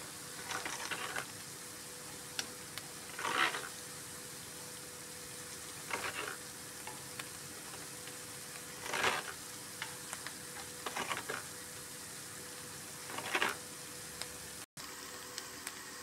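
Onions fry steadily in a pan until golden, making a constant soft sizzle for a lasagna dish, with a few louder scraping stirs recurring every few seconds.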